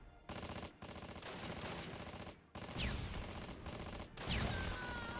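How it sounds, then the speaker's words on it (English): Machine-gun fire from the Close Combat war game rattles in several sustained bursts, broken by short gaps, with the rapid shots blending into a harsh roar and a couple of whistling ricochet-like streaks. It is fairly close and dominant, with no talk over it. "Gonna burn through our MG ammo real fast"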